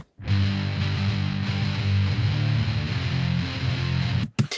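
A distorted electric guitar through Ableton's stock amp and cabinet plugin plays a sustained, buzzy chord riff, thick and fuzzy, loud and continuous before cutting off abruptly.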